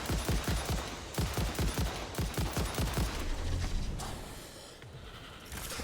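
Rapid gunfire from the factory-building game Satisfactory, a steady string of sharp, evenly spaced shots for several seconds that then thins out and fades, with no voices over it.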